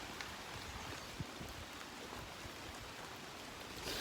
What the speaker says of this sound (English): We're being rained off.